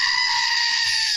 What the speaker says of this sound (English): Become the owner of your very own screaming goat.